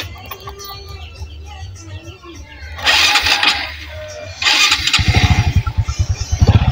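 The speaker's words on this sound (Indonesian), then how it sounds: "motor menyala" A Honda Supra 125 motorcycle, just fitted with its spark plug after an ignition fault, is cranked a few times with bursts of whirring, then fires and settles into a close, loud, rapid pulsing idle.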